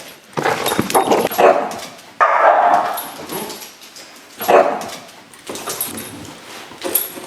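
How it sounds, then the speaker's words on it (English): An aggressive dog barks at a stranger at the door of a house, loud, close bursts of barking and yelping in several clusters with short pauses between them. "Teak, the aggressive dog who attacks everyone that he doesn't know that comes into that house"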